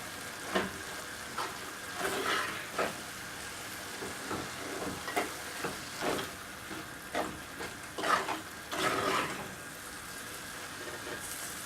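Prawn curry masala with chilli powder and turmeric being stirred in a pan, soft scraping strokes recurring irregularly over a faint, steady sizzle, fairly quiet and with no talking.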